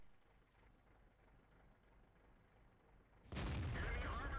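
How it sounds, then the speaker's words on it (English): Artillery shells from World of Tanks strike close by, a sudden loud blast arriving after a quiet rumbling stretch and ringing on to the end. "there were 2 Artie shells that just hit near me"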